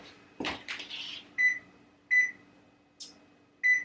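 A kitchen timer on a microwave is set during a fridge and pantry cleanout, with several short, fairly loud electronic beeps spaced about a second apart, following some handling and clatter.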